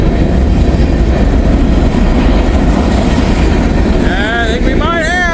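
A long freight train with distributed power units rolls past at night, loud and close, its steady rumble and rail noise filling the scene while faint wheel squeal rises near the end.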